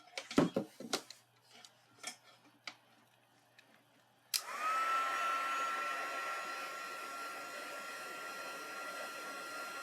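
A heat embossing tool blows hot air over embossing powder on a holiday card, switching on after a few soft clicks and taps and then running as a steady, loud, continuous whir with a thin whine until the end.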